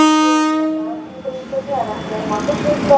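The KA Taksaka passenger train passes Matraman station in Indonesia, opening with a loud, sustained chord horn that fades into the rumble and clatter of the moving carriages, with a voice speaking faintly underneath.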